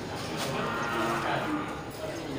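Simmental cross cattle moo at a busy livestock market, a clear bovine call rising over a murmur of crowd noise and distant background activity.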